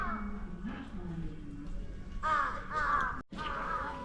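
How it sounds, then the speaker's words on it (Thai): A crow caws at Noboribetsu Bear Park in a series of harsh, nasal calls, several loud and close together near the middle, with outdoor background and some talk around them. "อีกาครับฮะ"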